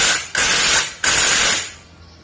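Clutch fastener being tightened on a two-stroke Kawasaki Ninja: two loud, hissing, ratcheting bursts close up, each about two-thirds of a second long, with a short gap between them, then fading out.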